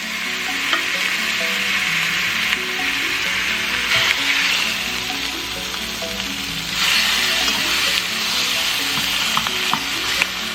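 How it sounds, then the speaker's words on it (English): Meat sears in hot oil in a large pot over medium-high heat for a roast, with a steady loud sizzle and frying crackle throughout, swelling in brief louder bursts; no voices. "Go ahead and place your meat in here, and we're going to sear both sides."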